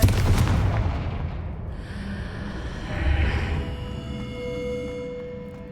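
A Confringo blasting spell explodes in Hogwarts Legacy, a loud booming burst at the start that rumbles and decays, with a second swelling rumble midway before fading, no voices.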